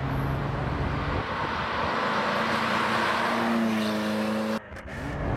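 A Ferrari supercar on a race circuit accelerates hard, its engine note rising in a loud continuous roar with climbing harmonic tones, then dipping briefly near the end as a gear change.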